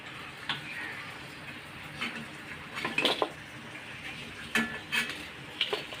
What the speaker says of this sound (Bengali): যেই কটা বাকি ছিল আমরা সেই কটা ভেজে তুলে নিলাম